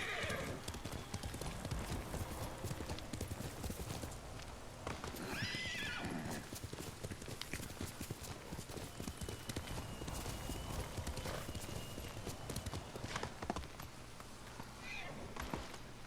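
Horse hooves clip-clop steadily with whinnies and neighs in the Ghost of Tsushima video game, while a player's voice talks over the game sounds.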